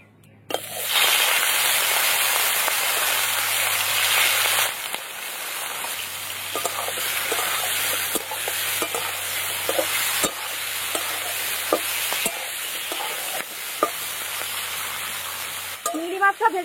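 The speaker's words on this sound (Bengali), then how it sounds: "চিংড়ি মাছগুলো সব ভেজে নেব।" Prawns frying in mustard oil in a kadai give a loud, continuous sizzle and crackle close up, broken by clinks and scrapes as they are stirred.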